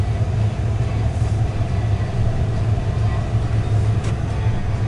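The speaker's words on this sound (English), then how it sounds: "Let's take you off for a quick test drive." A 2006 Ford F-150 XLT 4x4 pickup with a 5.4 engine on a test drive, its steady low engine and road rumble filling the cabin continuously without any talking.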